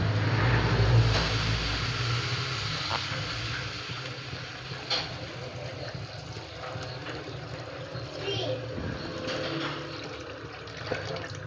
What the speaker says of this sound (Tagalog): Lalagyan na natin siya ng isang pitsil na tubig,